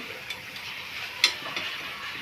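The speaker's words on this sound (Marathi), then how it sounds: "कांदा लालसर होईपर्यंत तळायचा आहे" Onion frying in a pan until reddish gives a moderate continuous sizzle close by, broken by a few sharp ticks and light stirring knocks.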